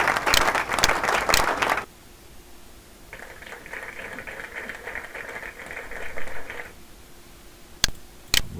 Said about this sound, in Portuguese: Vamos colocar um sonzinho de fundo de aplauso